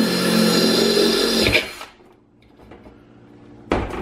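A power drill bores through a thin metal watering can in a loud, whining burst that cuts off abruptly, followed by a quiet stretch of faint handling clicks before another short drill burst starts.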